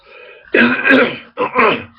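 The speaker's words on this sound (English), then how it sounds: "I've got another cough" A couple of harsh throat-clearing coughs, one drawn out and then a shorter burst, close and loud with no talking.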